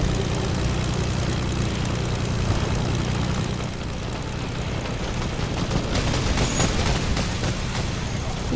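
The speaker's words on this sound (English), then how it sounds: "Here comes the airstrike." An airstrike aircraft in a video game flies over with a loud propeller-engine drone amid dense battle noise and bursts of gunfire, continuous and close.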